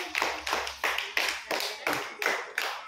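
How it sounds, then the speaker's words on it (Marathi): A group claps at a children's gurukul event, steady rhythmic applause with a loud burst roughly every third of a second, close and continuous. "तर आपण एकदा सगळ्यांनी टाळ्या वाजूया"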